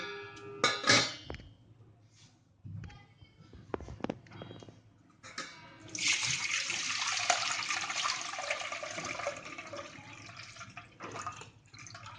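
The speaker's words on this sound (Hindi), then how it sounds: "अब इसको हम एक पतीला लेंगे, उसमें छन्नी से छान लेंगे।" After a few clinks and knocks, homemade white wine pours steadily through a strainer into a pot for several seconds with a splashy, hissing stream, then tapers off into drips.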